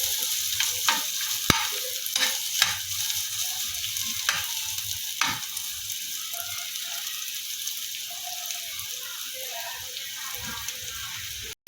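Chopped onion and cumin frying in hot oil as they are stirred, a continuous bright sizzle with occasional knocks and scrapes of the spoon against the pan.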